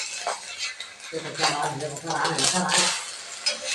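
An omelette being flipped in a pan brings a few close metallic clinks and scrapes of a spatula against the pan over a frying hiss, with a voice talking underneath.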